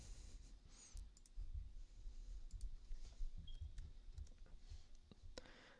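Sharp, quiet mouse clicks come now and then during CAD drawing work on a gasket, sounding close against a faint room hum with no one talking.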